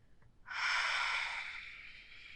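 A single long, breathy exhale comes during a yoga pose, close and soft, rising quickly and tapering off over a couple of seconds.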